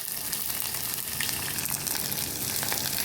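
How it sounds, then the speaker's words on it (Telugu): Oil sizzles and crackles steadily as tempering spices and onions fry in a pan for sambar, a continuous close hiss with no voices. "పోపు వేస్తున్నాను"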